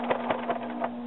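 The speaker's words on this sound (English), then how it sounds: "needle in, lift up the lever, and turn the fabric. Lower the lever, and then continue on." A sewing machine stitches the fabric of a wrap skirt, giving a quiet, steady mechanical whir with a constant hum and soft, evenly spaced thumps of the needle, heard close and alone.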